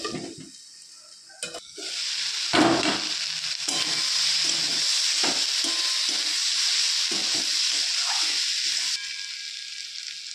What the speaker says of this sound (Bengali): 1 মিনিট পর এসে ঢাকা খুলে আবার এই সবজিটা নাড়াচাড়া করে দিলাম।